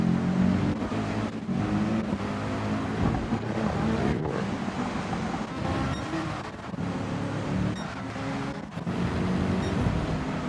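Steady engine and tyre roar of a BMW race car lapping Spa-Francorchamps in wet conditions in Gran Turismo 7, a continuous loud drone with brief dips, likely gear shifts.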